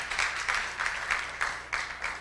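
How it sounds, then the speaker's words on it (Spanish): A church congregation applauds during a sermon, with bursts of clapping swelling in a steady rhythm roughly every third of a second over a short stretch. "Si tú lo ves, dale un aplauso a Cristo"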